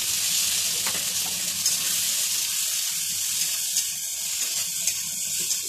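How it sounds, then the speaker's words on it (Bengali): Eggplant with neem leaves, salt and turmeric fries in a pan, a loud continuous sizzling hiss with faint stirring taps, steady throughout and with no talk. "এটা দিয়ে আমি একদম ভালো করে ভেজে নেব"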